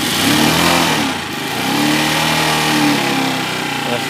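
A Lexmoto motorcycle engine runs with the choke on, a steady close idle with a slight rise and fall in revs and no voices over it.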